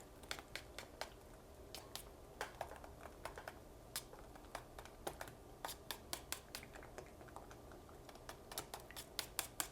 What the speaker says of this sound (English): we're just going to blend the two together thoroughly with this whisk